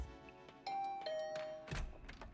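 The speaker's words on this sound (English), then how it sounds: "I'll ring the bell just in case." A doorbell in The Hundred Line -Last Defense Academy- video game chimes a clear two-tone ding-dong, heard once alone and close, followed by a soft thud.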